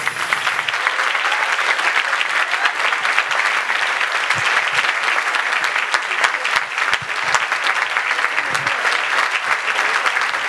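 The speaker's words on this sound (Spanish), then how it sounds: "Por favor, un aplauso para Beatriz." Sustained audience applause for a performer named Beatriz at a live Spanish music show, dense and steady for about ten seconds with no talk over it.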